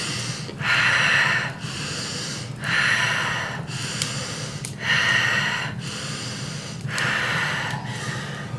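Deep breathwork breathing, with four strong, rushing breaths in a slow, even rhythm, each lasting about a second, close and loud over a low steady background hum.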